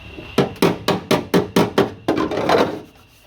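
Seven quick, evenly spaced hammer strikes on a Mk2 Ford Escort floor panel, close and sharp with a faint ring, followed by a scraping rub.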